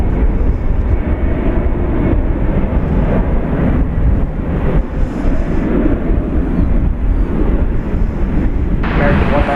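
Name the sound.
American Airlines Boeing 787-8 Dreamliner arriving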